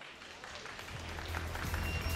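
Applause from the crowd at a FIFA Online 3 championship final as the two players return for the third set, clapping that swells gradually from quiet to fuller over a low, steady hum.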